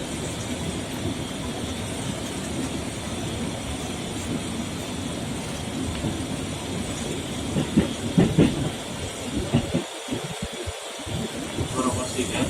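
A KRL Commuterline electric train departs Tanah Abang station in Jakarta, heard from inside with a steady rumble, hiss and growing rail clatter under onboard announcements.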